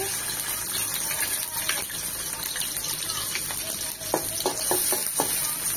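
Chopped onions in oil fizz and crackle in a wok on the stove, with scattered scraping stirs and a few sharper clinks over a steady sizzling hiss, no talk.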